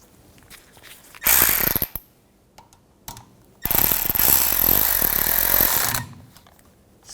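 Ratcheting tool tightening the screw on a new rear ABS wheel speed sensor of a 2011-2018 Volkswagen Jetta, two bursts of rapid clicking, a short one then a longer steady run, close and loud with quiet gaps between.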